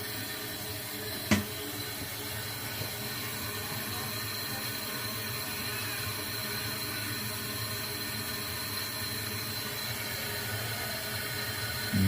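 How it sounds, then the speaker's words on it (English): A toilet tank refilling with water after a flush, a steady close hiss of running water that holds evenly throughout, with a brief knock near the start and no speech. "And now the water is going to start to fill back up."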